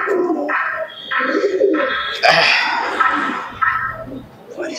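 Golalal pigeon, a high-value breed brought from Bangladesh, cooing in a series of close repeated calls with a brief flutter midway, over low background noise.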